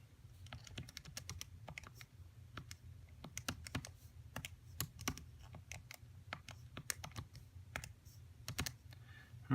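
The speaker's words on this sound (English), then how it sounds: "so we type all that in" Numbers are keyed into a calculator in a rapid, uneven run of light, close clicking taps over quiet background.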